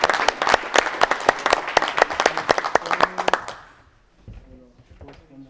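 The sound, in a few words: audience applauding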